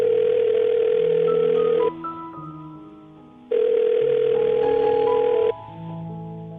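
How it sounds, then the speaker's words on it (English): A phone call rings out: two long, loud electronic ringback tones separated by a quieter gap, with a faint soft music bed underneath and no speech. "I'm gonna call her right now, see if we can get her on the phone"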